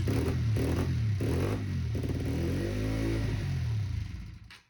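Honda CBR 125cc motorcycle engine that stalls straight away, revs poorly and won't hold idle, running close up with a rough, uneven note that surges and sags before dying away at the end.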